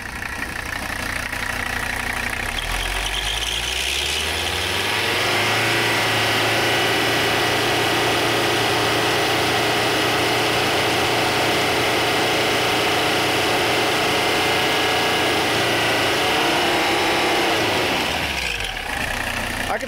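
The engine of a 1985 Mercedes 300CD with poor compression idles roughly, then is revved hard and held at high speed for a long stretch before dropping back to idle; loud, close and continuous with no talking.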